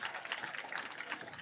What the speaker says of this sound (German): aber trotzdem applaudiert einfach weiter